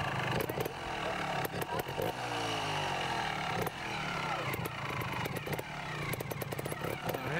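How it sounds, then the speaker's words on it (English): A trials motorcycle at a teen trials event starts and runs nearby, its engine revving in sharp, rising and falling bursts with a raspy, buzzing tone, loud and close. "Start your bike."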